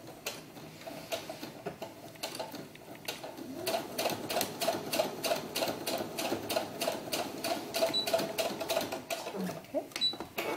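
A sewing machine stitches a seam on a doll's historical ball gown in a rapid, steady ticking run that starts after a few scattered clicks. The sound is close and moderately loud, with no talk over it.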